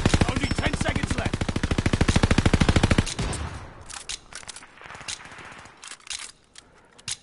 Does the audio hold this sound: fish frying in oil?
no